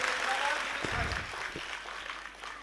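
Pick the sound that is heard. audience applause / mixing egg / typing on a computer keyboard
audience applause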